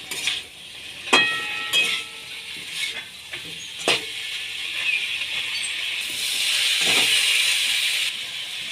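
Broccoli, potato and carrot pieces that were fried earlier are being stirred in a pan. A steady hiss and sizzle runs throughout, with sharp scraping and clattering strokes at irregular intervals. The sizzle swells toward the end.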